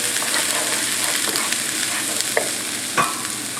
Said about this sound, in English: we're going to just cook that down in the olive oil here